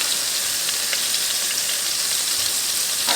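Lamb koftas fry in a pan with plenty of oil, giving a steady, dense sizzle and crackle that continues without a break and with no talk over it.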